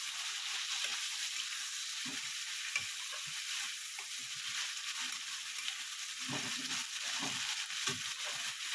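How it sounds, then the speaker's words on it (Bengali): Green chillies and ginger paste fry and get stirred in a pan, giving a steady close sizzle with soft scraping strokes scattered throughout, no voices. "দুটো কাঁচা লঙ্কা দিয়ে দেবো, আর যেটা আদা বেটে রেখেছিলাম সেই আদাটাও দিয়ে দেবো।"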